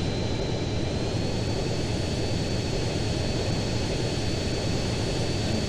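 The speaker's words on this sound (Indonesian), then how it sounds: "Ini pertama kalinya guys CJ bawa pesawat besar begini." A large airplane cruises in GTA San Andreas, a steady, dense roar of engine drone with a faint high whine, constant and loud throughout with no talk.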